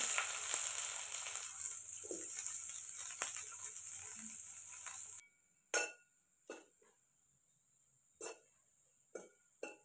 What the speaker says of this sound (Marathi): कढईत तेल टाकून घेतलेले कांदा भाजण्यासाठी.